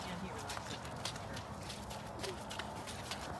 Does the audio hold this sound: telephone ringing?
no